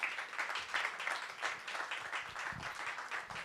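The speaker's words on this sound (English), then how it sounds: "Can we please welcome our two guests onto stage with a rousing hand of applause." Steady applause from an event audience welcoming guests onto stage, a dense wash of clapping hands that holds at an even level throughout.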